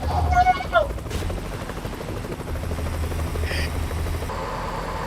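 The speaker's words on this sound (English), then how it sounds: "I was wondering, wow, helicopter, that looks amazing." A helicopter flies overhead in American Truck Simulator, its steady rotor thrum running throughout at moderate loudness while a person talks over it.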